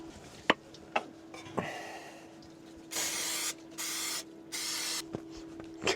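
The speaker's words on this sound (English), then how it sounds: "Oh, I should probably grease up this pan." Cooking spray hisses onto a pan at a campsite in three quick, close bursts, with a few light clicks and taps around them.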